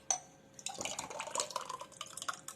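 Thick pearl millet porridge (kambu koozh) with pieces in it is poured into a tumbler, a close, uneven splashing pour with small drips, and no talking.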